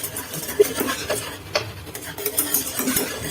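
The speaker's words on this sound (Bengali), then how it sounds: "ভালো করে নাড়তে হবে" Hot milk being stirred with ginger water in a pan, a spoon scraping and clinking in irregular close taps and swishes with no voices.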